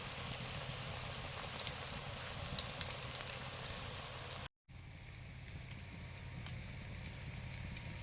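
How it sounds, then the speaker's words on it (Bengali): Steady crackling sizzle of bitter gourd slices frying in hot oil, continuous and fairly close, with a brief dropout partway through. "করলাগুলো ভাজা শুরু করেছি"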